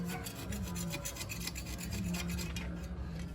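Sandpaper rubbing back and forth over a blade in a quick, steady rasping rhythm, close by and fairly quiet, with no talk.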